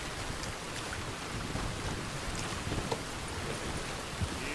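Steady rain in the Red Dead Redemption 2 video game, a dense, even hiss with faint low rumbles like distant thunder, continuous and unbroken with no talk over it.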